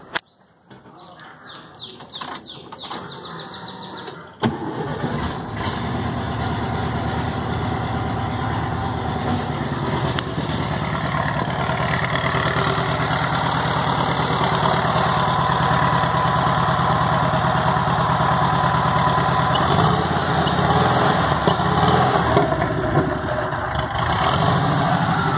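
A fuel-injected 1962 Volkswagen Beetle engine with an adapted fuel tank turns over and catches after about four seconds, then settles into a steady, loud, close idle that runs unbroken to the end.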